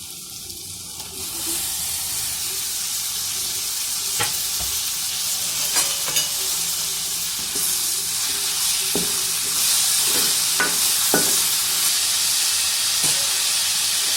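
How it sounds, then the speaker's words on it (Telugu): Chopped tomatoes added to softened onions fry in a pan for a country egg and dried prawn curry, a steady close sizzle with occasional stirring scrapes and clinks, no talking. "ఇప్పుడు అందులోకి కట్ చేసి పెట్టుకున్న టమాటాలు వేసేద్దాం"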